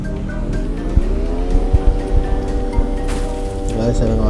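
A boosted vehicle speeds along in the Free Fire battle royale game, a steady loud engine drone with rising pitch, scattered thumps and a squeal near the end, under faint background chatter.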